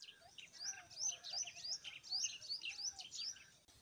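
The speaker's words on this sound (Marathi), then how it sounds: "वाढवणारा हा पक्ष्यांचा किलबिल करणारा असा आवाज." Several small birds chirp and twitter together on a village morning, quick high overlapping calls in a continuous lively chorus, fairly faint and at a distance.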